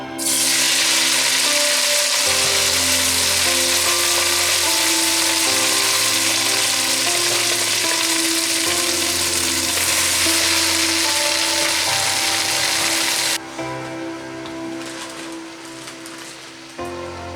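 Callaloo frying in a hot pot, a loud, steady sizzle and crackle close by that runs for well over ten seconds, then drops to a quieter simmering hiss near the end, with no talking.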